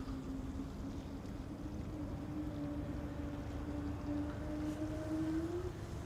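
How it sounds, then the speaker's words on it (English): A KLM Embraer E2 jet at Amsterdam Schiphol spools up its engines for departure, a faint eerie whale-like tone rising slowly above a steady broadband roar and wind. "Whale sounds emanating from the E2 Embraer's engines spooling up"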